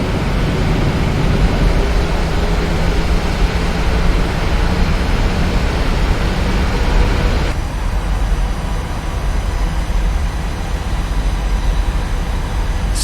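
Ryanair jet engines spool up to takeoff thrust on a flight from Bergamo to Stuttgart, a loud steady broadband roar heard from inside the cabin that holds constant before dropping slightly in tone partway through.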